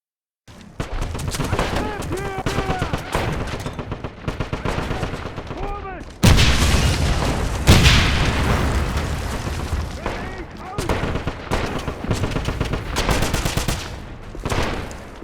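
Crossfire in a Wolfenstein shootout, with rapid repeated gunshots and machine-gun bursts, heavy impacts and booms, and shouting voices mixed among the fire.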